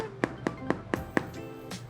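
Freshly baked Dominican pan de agua tapped five times at an even pace, each knock a short hollow thump, followed by a fainter knock at the end.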